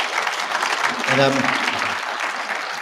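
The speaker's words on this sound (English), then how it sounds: "let's give these ladies a real big round of applause" A conference audience claps for a group of women, a broad wash of applause running throughout, with a brief spoken word cutting in near the middle.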